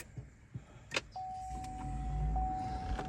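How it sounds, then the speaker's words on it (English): A car engine cranks briefly and catches, settling into a steady low idle hum that continues to the end, with a faint whine and some small interior clicks nearby. "Got to start the car"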